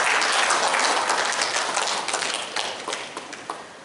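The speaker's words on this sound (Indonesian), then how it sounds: "Sekali lagi kita berikan aplaus yang meriah." Lively applause from a crowd at a bank's extraordinary shareholders' meeting in Jayapura, dense and loud at first, then gradually thinning and fading as the clapping tapers off.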